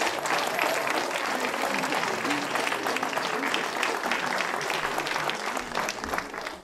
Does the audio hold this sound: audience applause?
yes